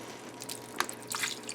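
Pork cooking juice poured into a slow cooker, heard as soft, irregular drips and wet splashes, quiet and close, with no one talking.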